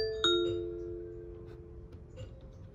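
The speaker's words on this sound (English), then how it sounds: "Someone is at the Ring doorbell." A bright electronic chime from a Ring smart doorbell rings out, its tones sustaining and slowly fading, with faint background noise and no speech.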